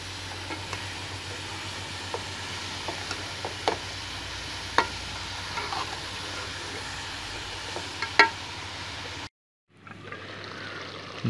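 A spoon stirs alu palak chicken, a mix of potatoes, spinach and chicken, in a pot, giving scattered scraping clicks over a steady low sizzle before a brief cut to quiet.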